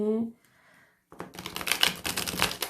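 Tarot cards are riffled and shuffled in a quick run of crisp, papery flutters, close and fairly loud, following a brief spoken phrase.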